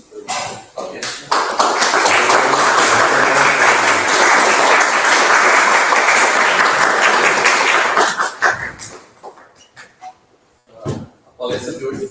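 Live audience applauding at the close of a physics seminar lecture in a university hall: sustained dense clapping that starts quickly and then fades out, followed by scattered handling noises and brief talk.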